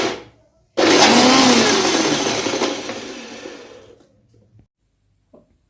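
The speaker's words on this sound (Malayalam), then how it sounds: "അതും കൂടെ ചേർത്ത് നമുക്ക് മിക്സിയിൽ അടിച്ചെടുക്കാം." Mixer grinder blending coriander chutney with coconut oil, starting abruptly into a loud whirring roar that gradually fades as the motor spins down, then quiet with faint clicks after it stops.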